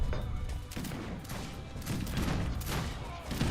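Mountain gun artillery in an Age of Empires 3 battle, a dense, continuous rumble of overlapping cannon blasts and volleys with no distinct gaps, loud and close-sounding.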